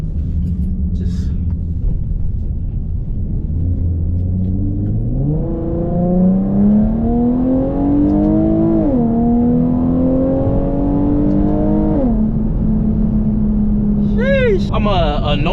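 Infiniti G37 coupe with a VQ engine and full titanium Tomei exhaust, idling then revved up loud and held, pitch rising and falling with a raspy drone before settling back; a voice speaks near the end.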